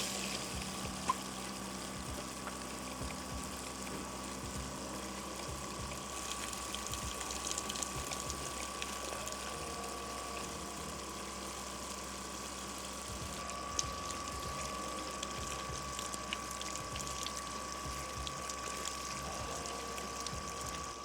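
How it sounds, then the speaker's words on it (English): An external water pump runs steadily in an Alu-Cab truck camper, drawing from a gravity-fed 90-liter tank; a continuous mechanical hum with rattling and running water sits at a constant level throughout, with a brief click near the middle. "So we have to use the external water pump because the water pressure from the gravity-fed water tank is just not sufficient."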